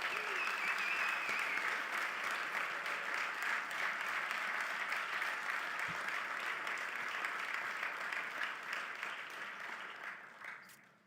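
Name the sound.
audience applause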